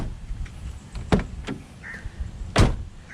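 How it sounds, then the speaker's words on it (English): Two solid thuds of a car door shutting after fitting aftermarket rubber door seals, the second louder and sharper, with quieter clicks and a faint mechanical whir between them. "Let's try the door closing sound."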